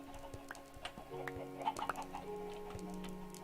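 Minecraft chickens cluck in short, faint, scattered calls, with a few soft ticking and popping sounds among them at low volume.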